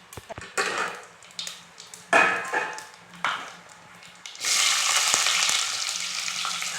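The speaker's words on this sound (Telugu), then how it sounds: "ఇంకా బోటి ఉడకలేదు, ఉడుకుతూనే ఉన్నది" Boti (tripe) bubbles and sizzles as it boils in a pot: crackling bursts at first, then a steady, loud hiss through the second half.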